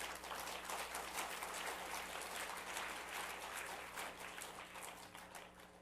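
An audience at a religious reading gathering in Cheongpyeong applauds, a steady faint wash of clapping from a distant crowd heard over a low electrical hum, tapering slightly toward the end.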